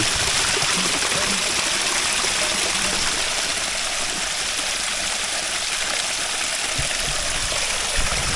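A forest stream on a rainy day, where water is collected with a bamboo tube: a constant, full rushing and gurgling of flowing water, close and steady throughout, with no speech.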